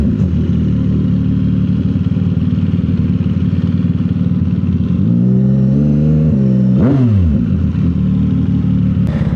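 A 2025 CFMOTO 675 SS motorcycle fitted with a full exhaust idles with a loud, close, throbbing burble, then revs up in rising and falling pulls before settling back to idle.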